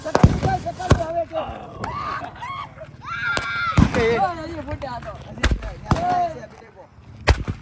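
Several sharp bidi bomb firecracker bangs go off at uneven intervals during Diwali, loud and close, while people talk and shout in between.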